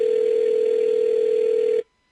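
Continuous steady telephone tone heard over a phone line, loud and alone, cutting off abruptly after nearly two seconds, followed by a brief click.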